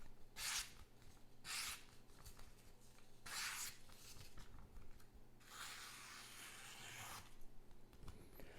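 A TwoSun TS-382 knife with a thin flat-ground blade slices a paper coupon, four or five crisp hissing cuts close to the microphone, the last one long and drawn out, with no talking.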